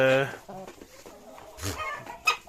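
A rooster's clucking calls, with a couple of sharper bursts between them, close by amid farmyard background.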